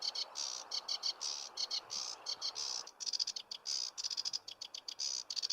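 A sedge warbler's song played slowed down: rapid chattering, clicking phrases in uneven bursts, fairly faint over a low background hiss, with no voices.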